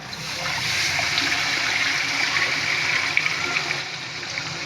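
Water pours steadily into a pan for suji halwa, a continuous rushing gush that holds at an even level for several seconds, close and alone without talk.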